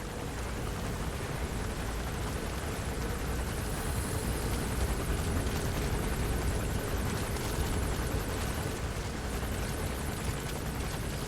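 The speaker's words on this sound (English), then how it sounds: "It's gonna be so good when we finally take down that helicopter." A helicopter in the video game Metal Gear Solid V gives a continuous, even rotor roar that fills the scene from start to finish, with no one talking over it.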